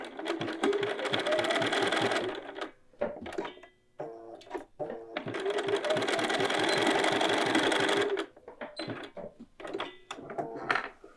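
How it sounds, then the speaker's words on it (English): A sewing machine stitching across the top of a button band with a quarter-inch seam allowance: two long runs of rapid, buzzing stitches broken by short bursts and brief pauses, close and clear, with no talking. "we're going to sew across the top of the button band using a 1/4 inch seam allowance"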